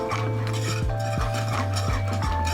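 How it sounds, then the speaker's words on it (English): A whisk scrapes repeatedly around a pot as a bacon roux is stirred into a milk sauce for mornay. About six rhythmic metallic strokes sit close and clear over a steady hum, with no voices. "as you add your roux, you wanna whisk continuously"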